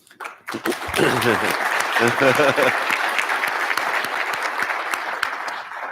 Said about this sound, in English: a round of applause for these panelists